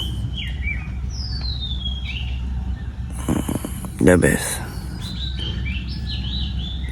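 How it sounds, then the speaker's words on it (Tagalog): Birds sing at dawn in Lobo, Batangas, with repeated chirps and whistled calls over a steady outdoor background while a person speaks briefly partway through. "Narinig mo lang yung huni ng ibon."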